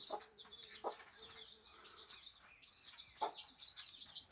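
Soft, high peeps of three-day-old chicks mix with low clucking from a hen, scattered and fairly quiet against a faint background.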